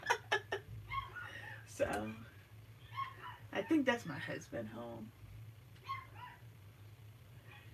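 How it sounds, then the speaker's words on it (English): Small Pomeranian dogs yap in a few short, sharp bursts close by, mixed in with someone talking steadily over them. "Oh, here goes my dogs."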